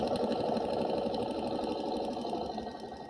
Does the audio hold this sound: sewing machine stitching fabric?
yes